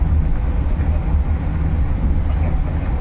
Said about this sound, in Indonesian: kereta api Tegal Bari berhenti luar biasa di stasiun Jatinegara